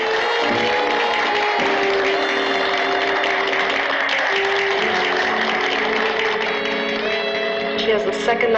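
An audience claps steadily for the finalists of a beauty contest, the applause holding an even level throughout, with a sustained tonal sound running beneath it.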